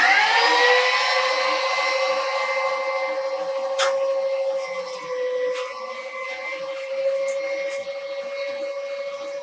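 A Weston meat grinder runs with a steady motorized whir and hum as it grinds partially frozen venison, the tone drifting slightly over several seconds, with a few sharp clicks, close and continuous with no talk.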